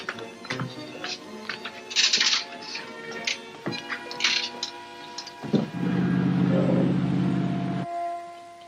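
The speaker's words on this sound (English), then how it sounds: "Start the engine." A boat engine in an old 1940s mystery film starts up, with a few mechanical clatters before settling into a loud, steady running rumble that cuts off abruptly near the end.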